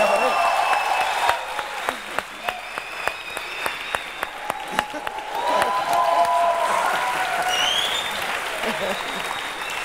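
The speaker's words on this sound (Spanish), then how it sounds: "Aplauso para Dimitri" A studio audience applauds steadily through the clip, dense clapping with distinct sharp claps standing out early and tonal whistles or music above it.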